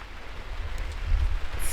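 Heavy downpour at a campsite in Jasper, falling as a steady broadband hiss with soft patter on surfaces, continuous and close, with no voices.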